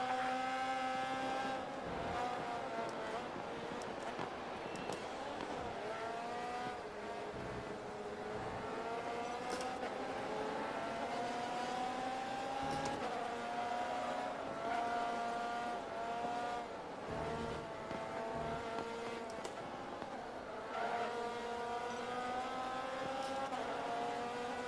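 An open-wheel race car engine in GRID Autosport whines loudly throughout, its pitch climbing through the gears and dropping on shifts, with brief clunks and tire noise along a street circuit.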